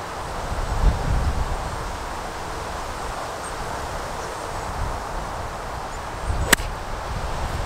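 A golf club strikes a ball from about 70 yards out on a windy course, a single sharp swish and thud late in the stretch, standing out against steady wind noise.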